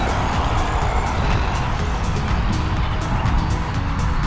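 Road traffic with cars passing, a steady, loud wash of tire and engine noise that holds throughout without distinct individual passes standing out.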